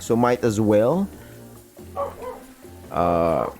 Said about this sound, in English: right now Sandra is woofing